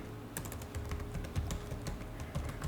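Typing on a computer keyboard, quick light key taps in a steady burst, close but faint, with no talking.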